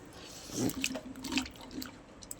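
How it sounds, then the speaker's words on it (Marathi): Cut potatoes rinsed in a bowl of water: soft sloshing and splashing close by, with a few light drips and clinks over a couple of seconds. "परत एक पाण्यात धुवून घेते"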